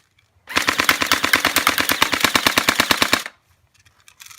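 A long rapid burst from an airsoft gun, about thirty evenly spaced shots fired in a steady stream for nearly three seconds, loud and close, then stopping abruptly with near silence and faint rustling after.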